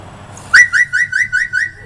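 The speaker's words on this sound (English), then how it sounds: "Can you call the dog?" A parrot whistles to call a dog: one sharp rising whistle followed by a rapid run of six or seven short, evenly spaced repeated notes, loud and close, with nothing else audible.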